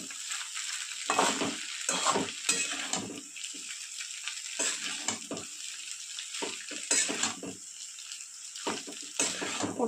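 Chowmein noodles stir-fried with vegetables in a pan, bursts of loud sizzling and clattering tossing strokes alternating with quieter pauses, close by and without speech.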